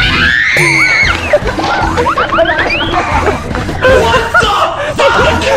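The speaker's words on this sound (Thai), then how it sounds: "น้องกรี๊ดเลยอะ" A child's high shrill screams rise and fall repeatedly amid a noisy group of kids shouting and talking, with knocks and clatter throughout, close and loud.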